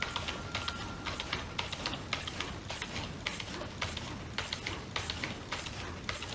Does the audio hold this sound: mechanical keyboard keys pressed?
yes